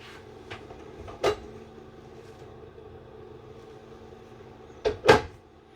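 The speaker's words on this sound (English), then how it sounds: "Sliding door for privacy" A few clunks and sliding bumps of a sliding bathroom door moving on its track in a 2024 Coachmen Chaparral 298RLS fifth-wheel RV, with a steady low hum in the background.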